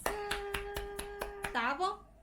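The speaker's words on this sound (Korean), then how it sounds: "박수." Hands clap about seven times in a steady rhythm, close and fairly loud, while someone hums a sustained tone underneath. A voice slides into speech near the end. The clapping comes during feeding time with a five-month-old baby eating rice porridge.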